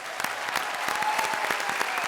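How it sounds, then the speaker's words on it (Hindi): Studio audience at a live Indian TV comedy show applauding an actor, a dense, steady burst of many hands clapping at close range with no talk over it. "अनिल जी के लिए थोड़ी बहुत तालियां हो जाए।"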